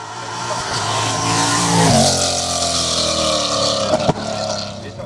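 A Volvo TC10 S60 race car charges up a hillclimb course at Limonest, its engine revving hard and rising in pitch, then shifting with a sharp crack as it roars past fairly close.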